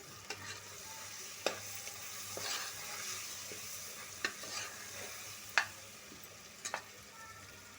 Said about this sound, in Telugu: ఇందులో టమాటా ముక్కలు వేసేయాలి వేసి కొంచెం ఫ్రై చేయాలి